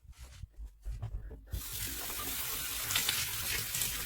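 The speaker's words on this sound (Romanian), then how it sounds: "Acum potrivim apa." Tap water running into a sink while the temperature is adjusted for washing a dog at home, starting with a few bumps and then becoming a steady, close rushing stream.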